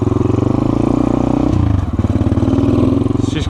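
Cold Honda Grom motorcycle engine idling steadily close by, a low, even, throbbing putter with a slight shift in tone midway, with no talk over it.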